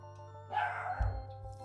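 A small dog barks a few times at middle distance, short yips over a steady low hum, with no talk.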